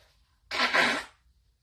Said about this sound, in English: I'm going to blow my nose again